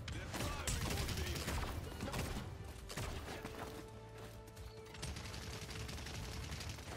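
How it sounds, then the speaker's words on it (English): Rapid bursts of gunfire from the video game Paladins during a payload fight, dense and continuous throughout over layered game effects and music. "They're firing on me."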